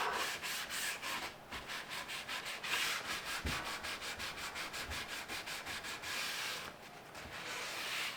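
A paper towel rubbed over a handmade wooden cutting board gives a steady run of quick, rhythmic rasping strokes, close and soft, with a brief pause partway through.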